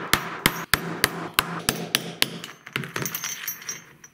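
Hammer peening a rivet on a handmade flail, about nine sharp metallic strikes in a quick steady rhythm, then lighter, faster taps, close and ringing, no voices.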